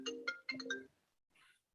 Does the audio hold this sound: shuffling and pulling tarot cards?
no